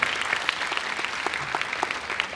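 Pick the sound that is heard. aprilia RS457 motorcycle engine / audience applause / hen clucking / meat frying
audience applause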